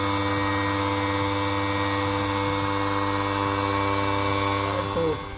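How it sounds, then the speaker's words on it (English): A portable air compressor inflates a freshly plugged flat car tire at home, giving a loud, steady, close-up motor drone with a constant buzzing hum that runs unbroken for several seconds before winding down at the very end. "let me go ahead and turn on the air compressor and bring the pressure back up to where it was"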